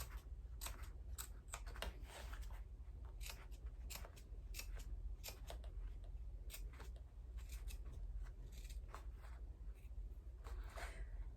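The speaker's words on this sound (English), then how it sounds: "I'm gonna snip up and around because this is all a curve here" Scissors snip fabric around a curve while a crossbody bag is being sewn: a close, steady run of crisp repeated cuts across the whole stretch, with no talk.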